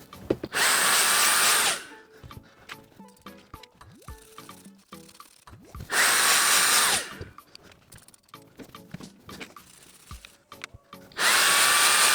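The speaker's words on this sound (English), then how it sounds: "I've got this air blower, so one of the things I do now is once I've cleaned one of these, I scoot it with the air blower" An air blower cleans an assembled SpiderMacPico circuit board in three loud, steady blasts of rushing air, each lasting about a second or two. Quieter clicks and handling noises fill the gaps between blasts.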